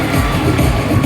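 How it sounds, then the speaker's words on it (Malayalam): A crowd at a kho-kho premier league event in Thiruvananthapuram claps and cheers, a dense, loud burst of noise from many people all at once. "വലിയ കൈയടി."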